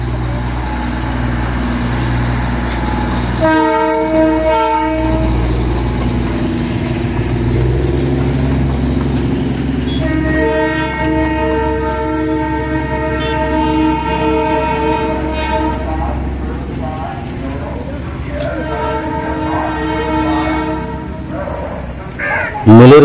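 A Darjeeling toy train at Darjeeling station sounds loud horn blasts, one short, then a long sustained one and another near the end, over steady engine rumble and station noise.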